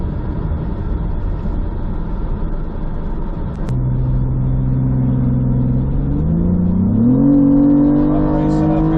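A car in a State Patrol escort accelerates with a steady, loud engine rumble that rises in pitch as it revs up toward the end, with faint talk underneath.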